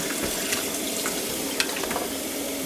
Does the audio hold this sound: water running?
yes